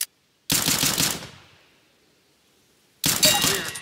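Rapid bursts of gunfire in the video game CS:GO during a training course, two loud dense volleys with a short silence and a fading ring between them.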